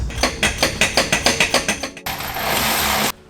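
Rapid ratchet clicking as a smaller ratchet works a stuck rear bolt loose on an Acura TL-S axle during a clutch job, about a dozen evenly spaced loud clicks, then a sustained hissing burst that cuts off abruptly.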